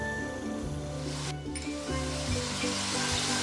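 Butter dropped into hot olive oil in a pot, a loud steady sizzle and crackle close by, with a few soft knocks and clinks of cookware in between.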